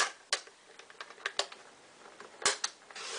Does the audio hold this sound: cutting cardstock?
yes